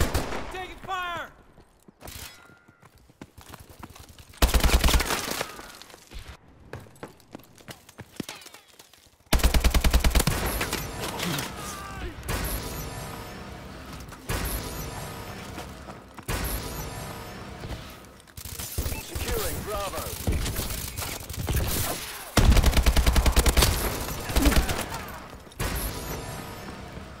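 Rapid automatic gunfire and sharp shots from Call of Duty: Advanced Warfare capture-the-flag multiplayer, loud and dense in repeated bursts, with brief game voice callouts mixed in.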